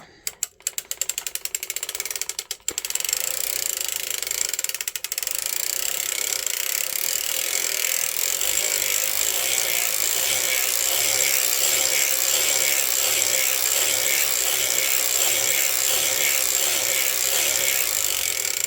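A circular sock machine knits rows of a 48-stitch fingerless glove with a steady, dense mechanical clatter of gears and ratcheting needles, close and continuous, after a few halting starts at the beginning.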